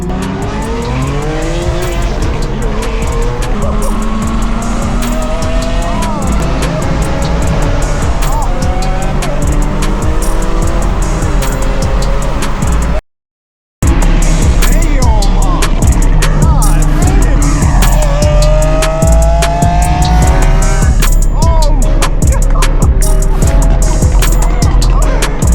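A 700HP tuned BMW M4 G82 drives among supercars, its loud exhaust revving and crackling up and down through gear changes, with tire noise and a brief cut in the middle, steady and close throughout.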